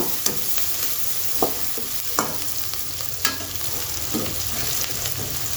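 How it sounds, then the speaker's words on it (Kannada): Onions with salt fry in a pan, giving a continuous close sizzle broken by several sharp scrapes and taps of a spatula stirring them, no voices. "ಅದನ್ನು ಫ್ರೈ ಮಾಡ್ಕೊಳ್ಳಿ. ಆನಿಯನ್ ಜೊತೆ ಮೆತ್ತಗಾಗ್ತಾವ."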